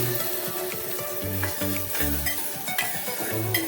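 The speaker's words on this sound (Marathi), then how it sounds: "आता याच्यामध्ये आपण कांदा टाकूया. चिरलेला कांदा" Chopped onion tossed into hot oil in a pan for a khuba clam masala, sizzling loudly and close with repeated stirring scrapes and clatter, and no talk.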